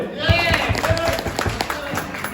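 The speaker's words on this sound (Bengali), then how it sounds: "আপনারা যারা এখানে আসছেন আপনাদের জন্য কি একটা হাততালি হতে পারে" Applause from an audience at a Bengali Baul folk song program in the Bronx, New York: a brief burst of scattered clapping with a voice talking over it.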